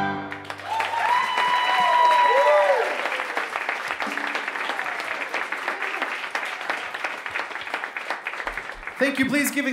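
Audience applause at a Green Room 2019 show builds into a dense, steady wash of clapping that fills the room, with music fading out beneath it at the start and a voice cutting in near the end.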